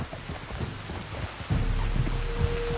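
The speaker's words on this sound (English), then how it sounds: "You were right about the damn rain." Rain falls steadily in the Red Dead Redemption 2 video game, a soft continuous patter, while a low rumble of thunder rolls in partway through and lingers under the downpour.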